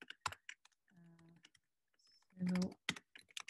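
Typing on a laptop keyboard, close sharp key clicks in short irregular bursts, mixed with a person speaking briefly.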